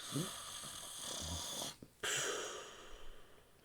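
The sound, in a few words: imitated snoring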